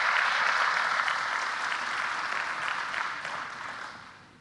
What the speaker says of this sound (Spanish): Un aplauso de todos